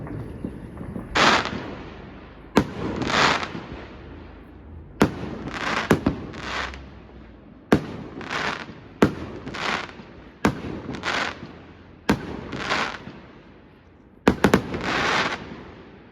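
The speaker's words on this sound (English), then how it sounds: "I would like to show you some firework, but I just can hear them and not see them." Fireworks go off in a distant, irregular series of about ten sharp bangs, each trailing a rumbling echo, with no talking.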